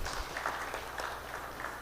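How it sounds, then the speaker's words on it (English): An audience at a press conference for a soca music competition breaks into applause, a dense, steady wash of clapping that fills the whole stretch at moderate volume. "I can get a round of applause for that."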